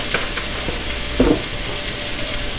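Vegetables and chicken sizzling in vegetable oil in a pan for chicken fried rice, a steady hiss of frying with a few brief stirring scrapes and clinks, close and fairly loud.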